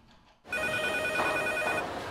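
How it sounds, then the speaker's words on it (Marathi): Telephone ringing, an electronic ring that starts abruptly after a brief quiet moment and continues steadily and fairly loud, with no talk. "आता वर्कशॉप मध्ये मी फोन लावते ना"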